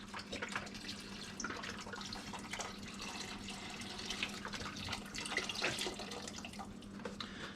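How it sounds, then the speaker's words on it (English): Broth poured into a soup pot for Hungarian mushroom soup, a steady splashing liquid stream with small bubbly trickles, moderately near and fairly quiet, with no talking. "We're going to start by adding our broth."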